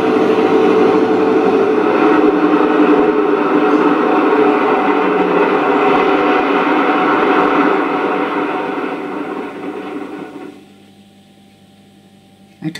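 A Deltic locomotive engine from a Southwest Digital sound decoder, with a steady, loud, droning diesel rumble and hum that holds, then fades away over the last few seconds before a short click at the end.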